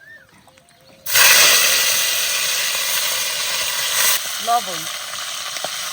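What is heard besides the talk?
fish oil sizzling in a pan while frying vegetables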